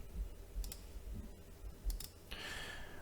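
Computer mouse clicks while working in software on a computer, a few short sharp clicks spaced apart in a quiet room, close to the microphone, with a brief rustling burst near the end.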